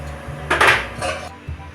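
A metal pot clanks down onto a stove with a couple of scraping knocks, close and fairly loud, followed by a soft thud.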